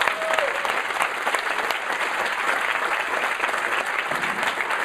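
A crowd claps steadily through a live event, a dense, even wash of applause from start to finish with no voices rising above it.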